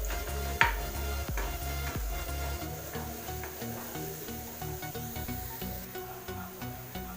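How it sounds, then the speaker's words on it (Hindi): Grated garlic frying with softened onion in a pan: a steady soft sizzle with a few sharp clicks and taps from stirring, close and fairly quiet. "इसमें मैं दूंगी ग्रेट किया हुआ लहसुन। लहसुन की कच्ची भुन जाने तक कुछ सेकंड के लिए हम जस्ट पका लेंगे।"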